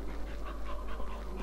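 A dog in the video game Silent Hill 4 pants in quick, rhythmic breaths, close and steady over a low constant hum.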